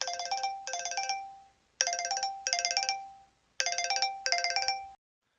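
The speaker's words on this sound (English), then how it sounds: "The physician will immediately receive a notification and alert to their device." Smartphone notification alert tone for a physician, repeating three times as a bright two-part chime pattern, clear and alone with brief gaps between repeats.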